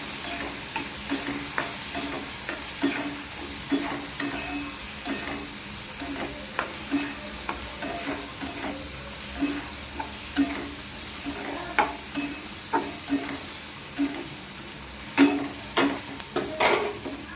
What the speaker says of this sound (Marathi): गरम मसाला टाकला. हलवून घेऊ.